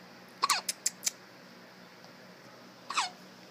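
A baby girl hiccups, a quick run of four sharp squeaky hiccups close to the mic, followed after a pause by one more, in a quiet room without talk.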